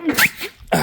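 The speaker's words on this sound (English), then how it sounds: "I just sneezed." A single quick, sharp human sneeze, close and loud, lasting under a second with a brief breathy intake before it.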